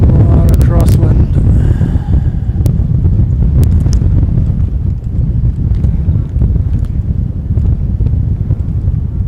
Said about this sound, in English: It's a lot of crosswind.